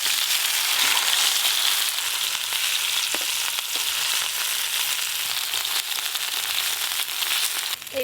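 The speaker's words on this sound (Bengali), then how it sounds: "এবার অল্প অল্প তেল দিয়ে খুব ভালো করে পাতুরিগুলো ভেজে নেব, সর্ষের তেল" Prawn paturi parcels fry in mustard oil with a steady, dense sizzle and crackle throughout, close and continuous, with occasional pops.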